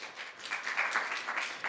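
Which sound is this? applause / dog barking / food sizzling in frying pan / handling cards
applause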